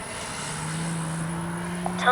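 An RC model L-39 jet flies with a steady whining turbine drone that stays even, then swells briefly at the end as it passes closer.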